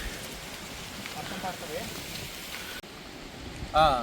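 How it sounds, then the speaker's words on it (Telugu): Rain falls steadily at a riverside temple site in Rayagada, a soft even hiss of drops that cuts out abruptly near the end before a brief voice is heard. "వర్షం పడుతుంది."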